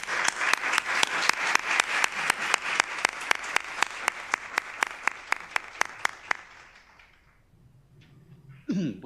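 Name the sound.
audience applause welcoming the speaker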